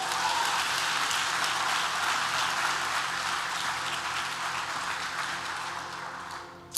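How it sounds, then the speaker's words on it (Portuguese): Church congregation giving a sustained round of applause, dense and even clapping that fills the room and slowly fades toward the end. "Dê uma salva de palmas para ele."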